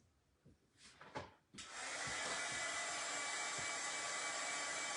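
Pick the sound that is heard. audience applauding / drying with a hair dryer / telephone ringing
drying with a hair dryer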